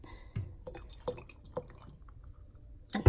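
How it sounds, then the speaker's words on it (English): Vinegar drips and splashes into a bowl in small, irregular liquid plips and trickles, fairly close and quiet, ending in a louder splash as it is poured in for cleaning a microwave. "Let's add more vinegar to this."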